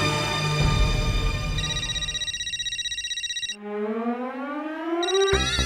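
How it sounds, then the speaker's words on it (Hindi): A phone rings indoors with a bright electronic ringtone, sustained tonal bursts with pitch sweeps, loud and alone with no talk over it. "ये माधवी फिर से क्यों फोन कर रही है?"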